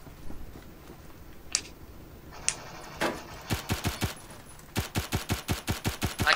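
MP5K submachine gun firing in the Phantom Forces video game: a few isolated shots, then rapid bursts of sharp, evenly spaced automatic fire, loud and close.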